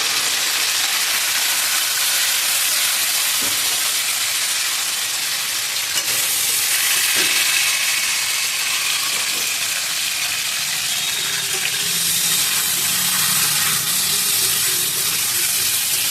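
Loud, continuous sizzle of cauliflower frying in a pan with salt and turmeric, with occasional stirring clinks and scrapes and no talking.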